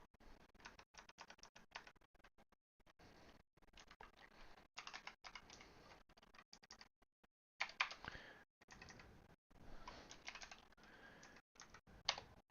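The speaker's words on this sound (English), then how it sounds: "My keyboard works, so that's good." Someone types on a computer keyboard in irregular bursts of clicking keystrokes with short pauses between them. The sound is close and fairly quiet, and nobody speaks.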